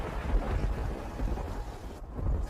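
Rain and thunder in an animated cartoon: low rumbling thunder over a steady rain hiss, moderately loud and continuous for a few seconds, with no voices.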